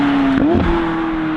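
McLaren 675LT Spider engine revving close by, a loud sustained tone that dips and rises with a brief crackle in the middle, no voices.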